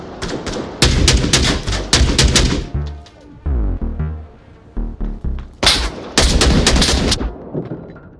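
AK-12 rifle fire in the VR shooter Onward, loud close bursts and rapid strings of shots separated by short pauses, with sharp cracks and occasional quieter single shots between the bursts.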